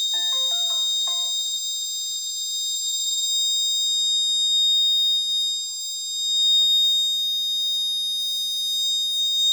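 A road accident alert alarm buzzer sounds continuously, shrill, high-pitched and steady, with a brief cluster of beeps at the start.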